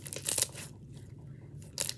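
Crunchy, glossy, stretchy slime squished by hand, giving two short bursts of crackling crunches and pops separated by a brief quiet pause, close and clear.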